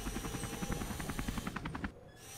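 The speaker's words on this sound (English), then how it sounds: "mini helicopter." A mini helicopter in Henry Stickmin Collection whirs with a rapid, steady rotor chop, loud and close, before cutting off abruptly near the end.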